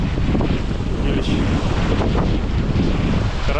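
Strong gusty wind buffets the microphone at a feeder fishing spot by the water early in the season, a loud, steady roar with no break and no talk.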